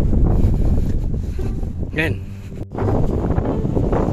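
Strong wind in Saudi Arabia buffets the microphone in a constant rumbling roar, with a person speaking briefly over it.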